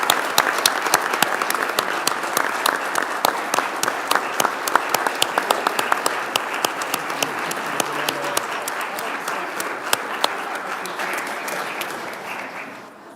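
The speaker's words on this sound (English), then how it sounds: "Please give them applause." A council meeting audience in the City of Maricopa applauds: dense, steady clapping from a large crowd that holds for about thirteen seconds before fading at the end.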